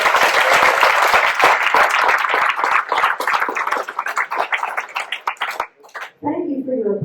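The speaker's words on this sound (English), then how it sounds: "Thank you for your applause." A town hall audience for South Carolina District 7 breaks into loud, close applause that thins and tapers off, followed by a speaking voice as the clapping ends.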